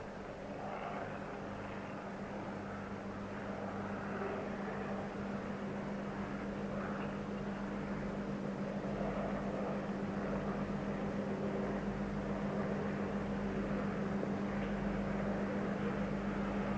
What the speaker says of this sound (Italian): ci inquadrano questo elicottero che continua a disturbare un po' il gioco ormai da un paio di minuti